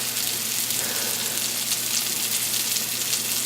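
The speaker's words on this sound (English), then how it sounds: "I'll let that fry up for a bit and I'll be back" Onions and Lightlife plant-based ground fry in a pan with garlic, making a steady, even sizzle and crackle throughout, close and moderately loud, with no voices.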